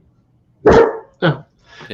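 A dog barks close by, two loud sharp barks and a fainter third, short and spaced apart, while people talk briefly around them.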